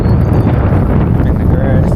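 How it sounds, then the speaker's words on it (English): Strong wind buffets the microphone out on the water while fishing, a loud, dense low rumble with steady gusting. "Oh man, it's windy."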